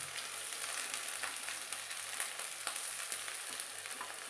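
Onion and tomato fry together in a pan for a Bombay duck jhal fry, a bright steady sizzle with small crackling pops, fairly quiet and close, with no talking.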